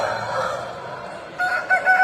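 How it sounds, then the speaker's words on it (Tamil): A white rooster crowing among fowl, a loud drawn-out crow rising near the end of a short stretch of farmyard sound, with no talk over it. "வெள்ளை சேவல்"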